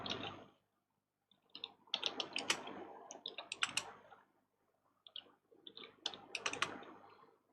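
Computer keyboard keys clack in quick, irregular bursts as code is typed, close and fairly soft, with short pauses between runs of keystrokes.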